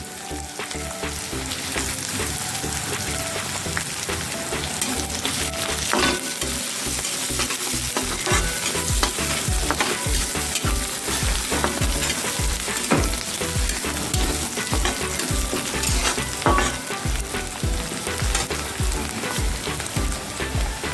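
Onion with garlic and coriander paste frying in a pan for a spicy radish-pod vegetable dish, a steady dense sizzle with stirring scrapes throughout, close and even, no talking.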